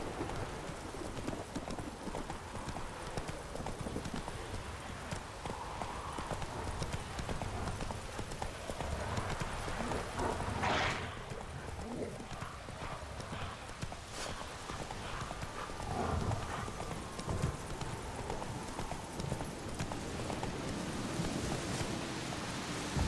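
Horse Roach galloping in The Witcher 3: Wild Hunt, steady clip-clop hoofbeats running throughout over a dense ambient bed that sounds like rain, with a brief whinny-like burst midway.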